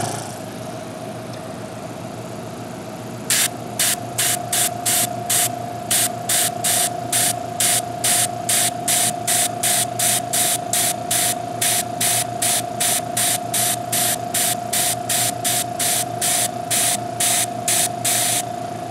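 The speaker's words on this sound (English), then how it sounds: "So first of all, let's get it with the airbrush." A cheap airbrush sprays liquid onto an area rug in short, regular hissing bursts, about two per second, loud and close, following a few seconds of quiet electrical hum from the compressor.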